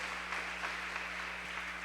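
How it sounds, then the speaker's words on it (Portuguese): A church congregation applauds for Jesus, a faint, even patter of clapping over a steady electrical hum, with no clear peaks, lasting under two seconds. "Pode aplaudir a Jesus."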